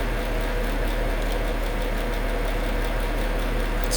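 A steady, low droning aircraft engine hums at about 1,000 RPM while taxiing in the X-Plane flight simulator, constant and even with a slight rhythmic throb throughout.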